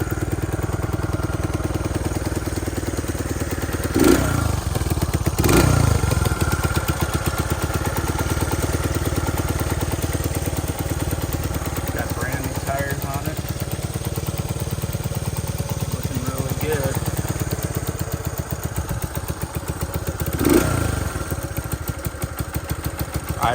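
1969 Honda CL90 motorcycle engine idling as the idle settles, a steady close mechanical putter with faint clatter and a few brief louder knocks.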